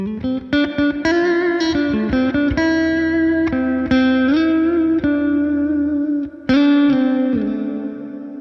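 A clean electric guitar tone runs through a Line 6 Helix with a Minotaur drive in a parallel boost path. Plucked single notes and short phrases ring close and loud, each one decaying smoothly, with no voices.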